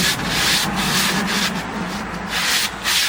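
Sandpaper worked by hand over the rim of a wooden bowl during restoration produces loud, close, continuous scratchy rubbing strokes with a few short dips between passes.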